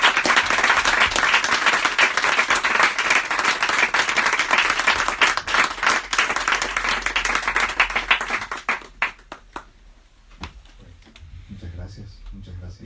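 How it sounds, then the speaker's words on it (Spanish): Audience applause at a Spanish poetry book presentation: dense, sustained clapping from a crowd for about eight seconds, then thinning out to a few scattered claps before fading to quiet room tone. "Pues un aplauso,"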